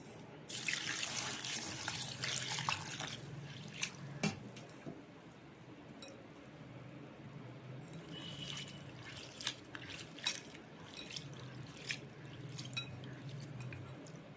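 Urad dal is washed under a running kitchen tap, a steady, soft rush of water into a bowl with light clinks and splashes as the lentils are stirred.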